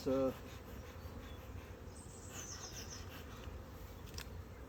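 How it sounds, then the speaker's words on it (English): Faint, steady buzzing of many bees, a low droning hum with occasional nearer insects passing by, against quiet outdoor background. "There's a huge number of bees in this colony"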